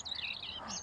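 Forest birds sing in clear, high, warbling chirps, continuous and fairly close, with no voices.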